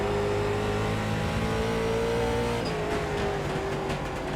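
Late model race car engine in the iRacing video game at South Boston Speedway, a loud steady droning hum held at an even pitch throughout, with no talk.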